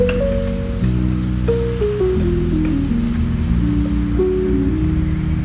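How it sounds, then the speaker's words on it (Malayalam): Potato pieces sautéing with salt in a pan for a vegetable pulao give a steady, crackling sizzle throughout, with a melodic tone droning underneath. "കുറച്ച് ഉപ്പും കൂടി ഇട്ടിട്ട് വഴട്ടുക"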